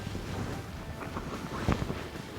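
Wind gusting outdoors while a hub-style pop-up ice fishing shelter is set up, a soft steady buffeting rush with faint flapping, with no talk.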